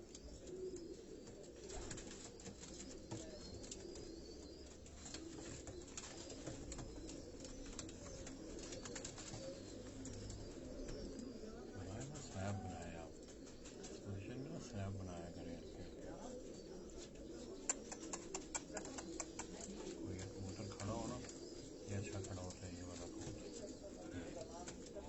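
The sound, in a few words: pigeons cooing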